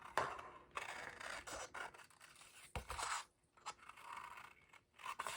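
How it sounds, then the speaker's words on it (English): Scissors snip through paper while a junk journal piece is cut out, a run of close, crisp slicing and rasping strokes with short pauses between, no voices. "take my scissors and cut that out"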